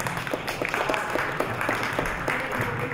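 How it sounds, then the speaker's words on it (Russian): Fans at a grappling bout for third place clap steadily in a large space, a continuous patter of applause with some voices underneath. "Болельщики поддерживают спортсменов."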